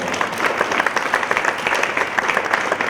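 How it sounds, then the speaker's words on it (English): A tech ecosystem event audience applauds, a steady, close wash of many hands clapping throughout the short stretch with no voices over it. "give yourselves a round of applause"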